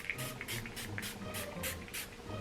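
Seven short, rhythmic bursts of fine spray hiss at a steady pace, close by, with a faint low background hum and no talking.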